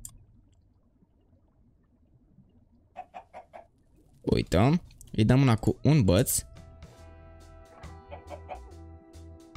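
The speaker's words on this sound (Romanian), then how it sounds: "Hai să încercăm acum să spawnăm găina aia unde trebuie." Minecraft chickens give a few short clucks, followed by louder squawking bursts as one is hit, with someone talking over parts of it.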